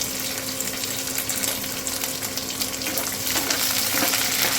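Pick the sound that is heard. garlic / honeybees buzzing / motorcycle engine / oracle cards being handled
garlic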